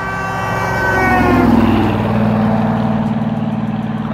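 A 1970 Chevelle's V8 rumbles loud and close, its engine note swelling as it revs and then settling into a steady throbbing idle, with no one talking over it.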